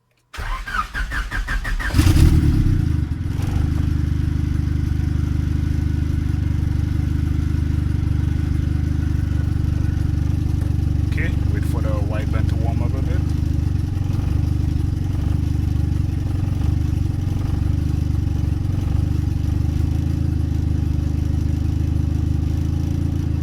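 Car engine run on a Speeduino standalone ECU cranks briefly and catches, then settles into a steady, loud, even idle that continues close by for the rest of the clip.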